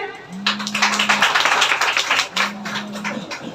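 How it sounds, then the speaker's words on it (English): An audience claps at a 15th August Independence Day spoken English class, in two dense bursts of applause separated by a short lull, with a low steady hum underneath. "Again, big clap for Sagar"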